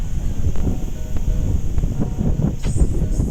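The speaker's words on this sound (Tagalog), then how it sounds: "Lakas ng hangin." Strong wind roars and buffets the microphone steadily, a loud low rumble with gusts throughout.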